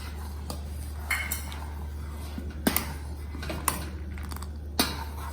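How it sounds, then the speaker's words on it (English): A spoon stirs bread into milk in a metal pot while bread kheer is made, with soft scraping, scattered clinks against the pot, and a low steady hum running underneath. "So you have to go on putting bread and stirring"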